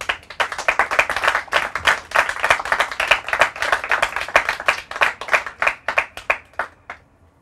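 Studio audience applause for school quiz contestants, a burst of dense clapping that starts loud, holds steady, then thins out into scattered claps before fading to silence.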